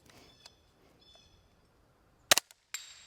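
A suppressed H&K G36 rifle chambered in .22LR fires outdoors at a steel plate target, giving a sharp clipped crack followed by a second quick impact, then another crack a moment later after quiet.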